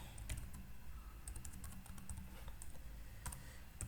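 C++ code being typed on a computer keyboard, faint scattered key clicks over a steady low room hum, with no talking.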